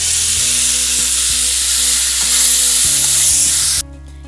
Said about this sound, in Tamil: நம்ம எடுத்து வச்சுக்கிற மசாலா பேஸ்ட்டு இதில் சேர்க்கலாம்.